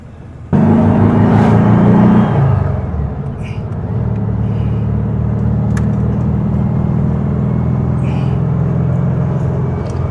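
A 1969 VW Beetle engine runs steadily on a test drive, a loud low drone that drops in pitch after a couple of seconds as it shifts, then holds a constant rumbling hum with road noise.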